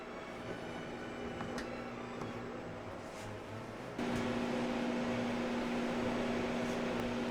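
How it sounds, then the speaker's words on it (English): A freeze dryer's steady machine hum with a tonal whine runs continuously, stepping up louder partway through as another component kicks in. "I pre-cooled the freeze dryer before loading the trays in."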